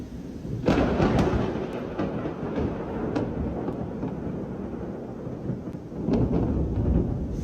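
A heavy thunderstorm with a pounding downpour over Shenzhen, deep rolling thunder rumbling continuously and loud, swelling near the start and again toward the end, with no voices.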